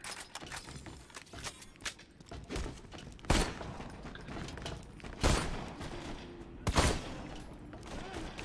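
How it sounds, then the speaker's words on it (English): Sniper rifle shots in Borderlands 2, three sharp cracks spaced a couple of seconds apart over a busy, noisy game background with scattered clatter. "Sniper rifle at a distance."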